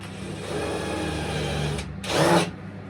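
A countersink bit in a power drill whirs steadily for a moment, trimming timber on a narrowboat, then rises into a brief louder grinding burst before stopping.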